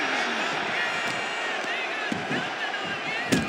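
A crowd roars continuously in a large wrestling arena in the video game WWE 2K26, a sustained wash of cheering with occasional sharp thuds cutting through.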